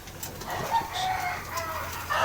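Pigeons, kept as racing birds, with a soft continuous cooing and fluttery calls close by, steady throughout with a brighter call near the end.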